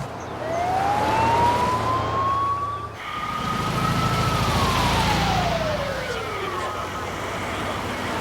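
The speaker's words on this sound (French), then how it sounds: "Voilà l'ambulance." An ambulance siren wails in a long rising and falling sweep, fairly close, over a steady rumble of traffic.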